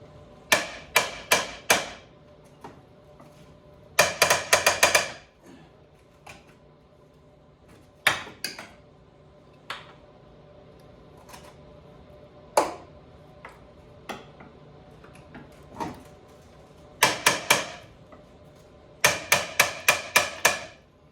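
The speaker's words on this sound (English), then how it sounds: "All you gotta do is take your wrench here and your hammer" Sharp metallic hammer blows on a wrench fitted to bolts on a Mustang ring out in quick bursts of four to six strikes, separated by pauses with scattered single taps, close and loud.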